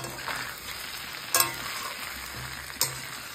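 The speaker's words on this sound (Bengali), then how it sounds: "একটু নেড়ে চেড়ে দিই" Dry chilli chicken in sauce stirred in a frying pan, a soft continuous sizzle broken by two sharp scraping clinks of the spatula against the pan, with no voices.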